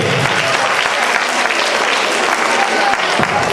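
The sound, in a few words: audience clapping for Sumit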